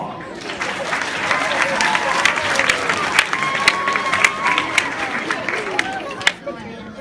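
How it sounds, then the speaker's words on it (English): An audience applauds a performer being introduced on stage, with sustained clapping, crowd murmur and a few sharp individual claps lasting the whole stretch. "Give her a round of applause."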